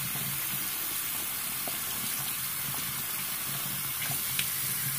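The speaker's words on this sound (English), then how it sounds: "run it under running water, and then sit it to the side just to let it dry" Tap water running steadily over the head of a waterproof spinning facial cleansing brush at a sink, a continuous close hiss and splash with no talking.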